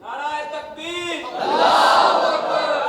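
A lone voice calls out a slogan at a religious celebration gathering in Gujranwala, and a large crowd answers with a loud, sustained shout that swells and fills the space.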